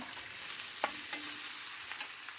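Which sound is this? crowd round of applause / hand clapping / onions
onions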